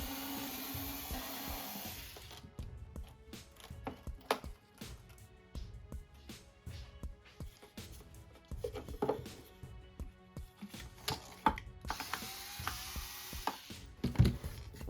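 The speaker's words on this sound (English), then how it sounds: "It's held on by 4 screws, so we'll go ahead and take those out." Screws are unscrewed from the charging port assembly of a JBL Boombox 4 speaker, with repeated small clicks and scraping taps in an irregular rhythm, close up, under a faint steady hiss.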